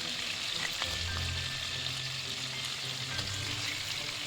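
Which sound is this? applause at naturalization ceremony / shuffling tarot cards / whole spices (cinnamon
whole spices (cinnamon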